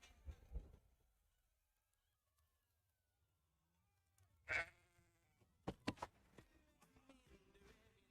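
Goat bleats from the video game Goat Simulator 3, a short bleat early on followed by a louder cry and a few sharp sounds, set against long near-silent gaps.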